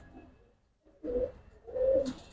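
Giribaz racer pigeons coo nearby in two rolling, throaty phrases after a brief quiet start, the second call swelling louder.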